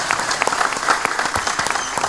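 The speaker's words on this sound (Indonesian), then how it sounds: "Kula nyuwun para pamriksa sedaya tepuk tangan kangge dalang luar biasa." Audience applause for a dalang (puppeteer) at a Javanese wayang performance: dense, lively clapping from a crowd, sustained evenly throughout, fairly close and bright.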